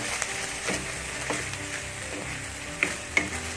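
Pork belly with shrimp paste, chilies and kaffir lime leaves stir-fries in a hot pan, a steady close sizzle broken by scraping stirs and a couple of sharp spatula clinks.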